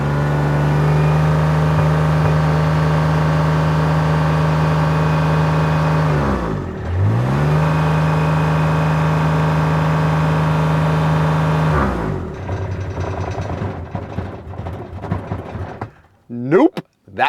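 Engine of a Kubota RTV-X1140 utility vehicle with a fuel problem, revved hard and steady, dipping briefly mid-way before climbing again, then dropping off and sputtering toward idle and cutting out near the end.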